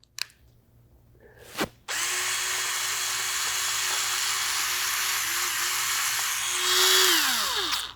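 A power drill spins in reverse, a sustained steady whine that starts abruptly after a short clunk and quiet pause, running for several seconds before rising slightly and winding down.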